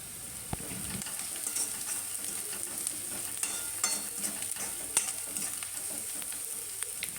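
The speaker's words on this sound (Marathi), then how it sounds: "कांदा थोडा तांबूस होऊ लागला की त्याच्यात थोडं मीठ घालणार आहोत आणि परतून घेऊया" Onion frying with salt in a pan, a soft continuous sizzle with scattered ticks and scrapes of stirring, fairly faint and without talk.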